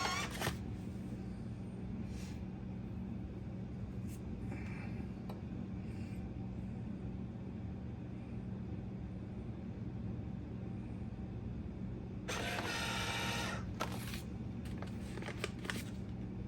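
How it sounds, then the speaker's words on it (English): A vacuum sealer heat-seals a Mylar bag of homemade granola for camping, giving a steady low mechanical hum throughout, followed near the end by a brief burst of crinkly bag rustling. "Okay, we're over here at the vacuum sealer. Again, we're just going to put a seal on this."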